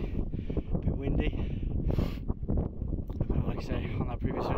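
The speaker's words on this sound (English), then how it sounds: "a bit windy." Steady wind gusting and buffeting against a microphone outdoors, with a voice talking over the blustery rush throughout.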